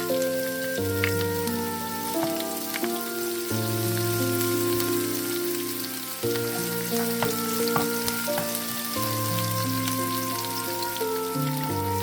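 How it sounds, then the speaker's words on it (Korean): Green onion and minced garlic stir-fry in a preheated pan with a light, steady sizzle. It plays under a continuous background music track. "이번에는 대파를 넣고 볶아주세요."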